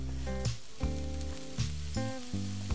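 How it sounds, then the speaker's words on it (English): A steady hiss of rice sizzling in a hot pan while making risotto, with a rhythmic low droning hum pulsing underneath and no voices. "Come on, you wanna hear that sizzle here?"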